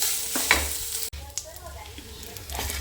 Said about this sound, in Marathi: चला मग आता याच्यानंतर खोबरं पण भाजून घेते